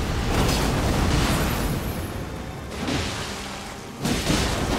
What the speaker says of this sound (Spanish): Vale, y ahora hay una explosión.